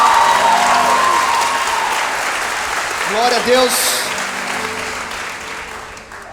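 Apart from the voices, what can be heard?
audience applause at a church conference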